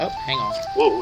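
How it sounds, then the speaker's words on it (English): A mobile phone ringtone goes off indoors, a steady tonal ring lasting about a second, with a person talking over it in surprise. "that's my phone going off"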